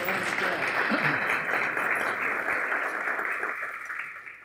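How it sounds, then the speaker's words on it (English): Audience applause at a ribbon cutting ceremony for a college industry innovation center, a dense, steady clapping from a crowd lasting several seconds before tapering off slightly at the end. "Give a round of applause."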